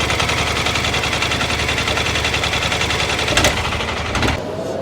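A motorcycle engine at a motorcycle trade show gives a loud, continuous rumble with a rapid rattling pulse throughout, close by, with a couple of brief sharp revs near the end.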